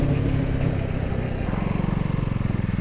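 A KTM Duke 200 BS6 motorcycle rides along with a close, continuous engine drone, its pitch and pulse shifting midway as the throttle changes, loud and steady throughout.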